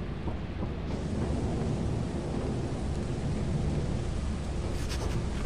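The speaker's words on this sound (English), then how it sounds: "weather's stormy on Artifice" Stormy weather on the Artifice moon in Lethal Company: a steady, loud roar of rain and rumbling thunder fills the whole stretch without a break, and no one speaks.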